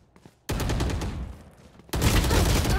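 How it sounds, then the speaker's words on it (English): Automatic gunfire from the Phantom rifle in a shooter video game, with two dense loud bursts and a quieter ticking lead-in, close and dominant with no talk over it. "Everybody uses this phantom gun."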